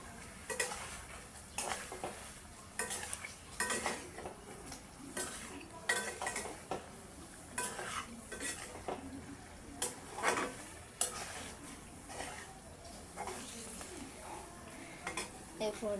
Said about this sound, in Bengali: ভালো করে নেড়ে চেড়ে নেব।